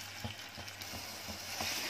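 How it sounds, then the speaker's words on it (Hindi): Dried fish (sukat) frying in oil with onions, a quiet, steady sizzle broken by soft scrapes of stirring a few times, no voices. "अभी सुकड़ तल रही हूँ"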